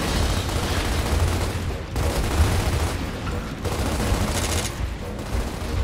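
Rapid gunfire from a heavy ammo-hungry gun in Gears of War Ultimate Edition rattles loud and close in sustained bursts, with brief pauses between strings of shots and no talk over it.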